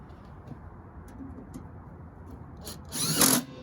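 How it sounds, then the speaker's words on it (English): A power driver running engine cover screws back into a Tecumseh Snow King engine, with a short whirring burst near the end after quieter background sound. "Just got to put the cover screws back in."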